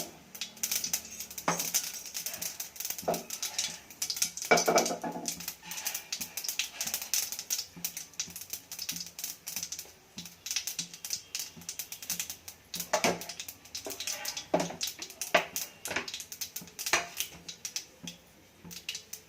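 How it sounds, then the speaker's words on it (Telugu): Mustard seeds splutter in hot oil in a pan, giving fairly faint, irregular crackling pops with a few denser bursts of sharp sizzling clicks. "నూనె వేడెక్కింది. అందులోకి ఆవాలు చిప్పట్లాడాలి."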